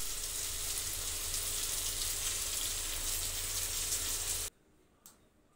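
Curry cooking in a pot on a home stove gives a steady, dense hiss like sizzling that runs for about four and a half seconds, then cuts off abruptly, leaving near-quiet with one faint knock.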